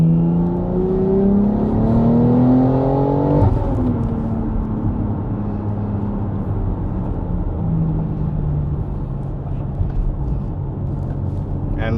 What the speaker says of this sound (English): take over the beautiful exhaust note of the S58 on this car